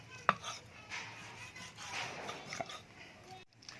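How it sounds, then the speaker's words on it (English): A knife slices cooked beef into bite-size pieces for beef rendang, giving a couple of soft, quiet cuts against a board with a sharper knock near the start. "just slice them like that"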